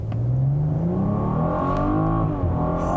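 A 2022 BMW M440i convertible accelerating hard from a launch, its engine note climbing steadily in pitch through the rev range, loud and close, alone without speech.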